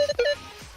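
A short pair of electronic beeps from a Minelab X-Terra Pro metal detector in a forest, clear and fairly loud, followed by a faint fading tone.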